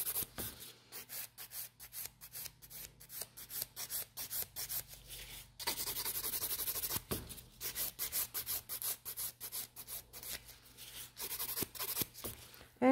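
A hand file scrapes excess gel product off fingernails in quick, repeated short strokes, close and fairly quiet, coming in rhythmic bursts with brief pauses between sets.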